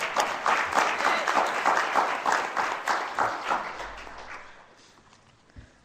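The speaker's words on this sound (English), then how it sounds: "Let's give her a round of applause." At a public meeting on sickle cell disease drug development, an audience claps in a loud, rhythmic round of applause that fades out over the last two seconds, leaving near silence and a soft thump.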